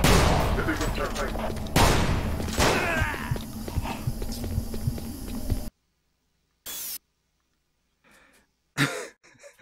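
Shotgun blasts in the VR game Doom 3 BFG, with a few loud, sharp reports and echoing clatter over a dense, rumbling soundscape, then near silence broken by short faint bursts and soft vocal noises.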